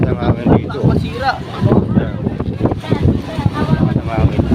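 Strong gusting wind buffets the microphone outdoors while people talk throughout, the low rumbling bursts rising and falling under their voices.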